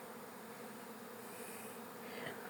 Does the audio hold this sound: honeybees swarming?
yes